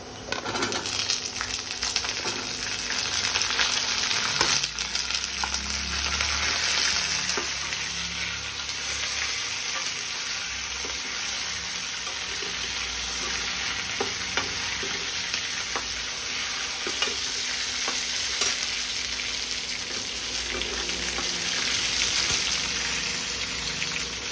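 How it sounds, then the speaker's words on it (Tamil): Shallots sizzle and fry in oil in a pan for a sundaka chutney, the spatula stirring and scraping now and then; the sizzling hiss stays loud and steady throughout, with no voices. "இப்போ இந்த ஸ்டேஜில் சின்ன வெங்காயம் தான் ஆட் பண்ணணும்."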